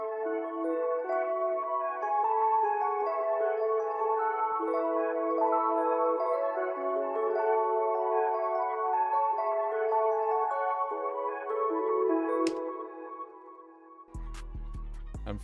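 A Rhodes electric piano plays a mellow sustained chord texture from a Splice sample, soft and steady throughout, ending in an abrupt burst of clicks and low noise.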